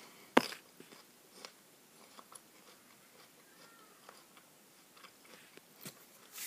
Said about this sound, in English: Sorry, I'm munching.